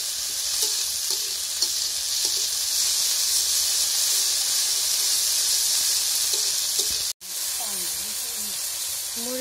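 Onion, chili, garlic paste and ginger paste fry in hot oil with a steady, close sizzling hiss throughout, broken by faint stirring scrapes and a brief dropout near the end, while voices talk softly in the background.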